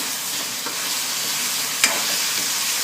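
Marinated cubes of pork loin for menudo are stirred in a hot pan, with a steady frying hiss, soft scraping turns and one sharp clink of the utensil partway through.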